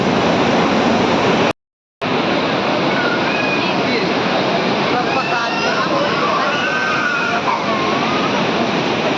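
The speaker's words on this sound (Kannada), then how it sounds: "ಇಲ್ಲಿ ನೀರು ಸೌಂಡು ಜುಲು ಜುಲು ಜುಲು ಅಂತಿದೆ" Steady rushing water at the Kateel Durga Parameshwari temple, a continuous broadband wash like a stream or small cascade, close and loud throughout, with a brief dropout partway and faint voices under it.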